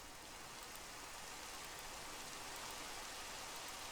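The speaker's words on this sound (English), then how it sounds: "I'm hearing rain" Rain falls in the Minecraft video game as a steady, faint hiss of broadband noise that stays even throughout with no other sounds.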